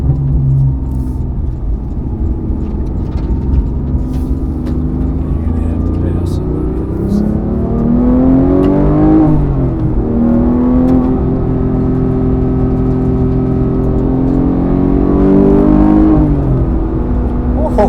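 Porsche 911 GT3 Touring engine cruising in sixth gear, heard from inside the car with the windows up: a steady, low, subdued drone with a slight rise in pitch partway through, under ongoing conversation between people in the cabin.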